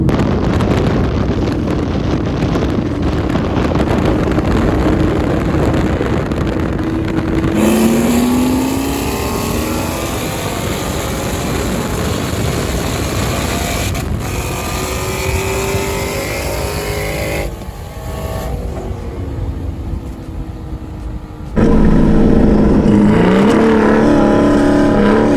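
A supercharged Whipple Mustang GT or a big single-turbo six-cylinder car launches at a night roll race in Mexico, a loud sustained engine roar rising in pitch through the gears under heavy wind noise, with another surge near the end.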